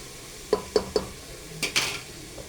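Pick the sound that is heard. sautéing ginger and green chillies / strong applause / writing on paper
sautéing ginger and green chillies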